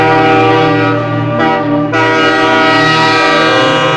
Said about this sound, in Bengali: মতো এক টয় ট্রেন